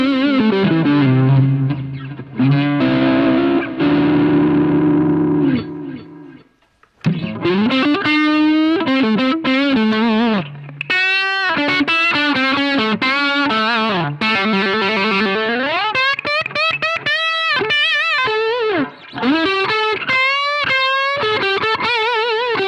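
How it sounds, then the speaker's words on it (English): A Roland Micro Cube amp on its Marshall Bluesbreaker-style combo model carries a distorted electric guitar playing chords and bending single-note lines, loud and up close with a short break partway through. "And then we have the Marshall type blues breaker type combo."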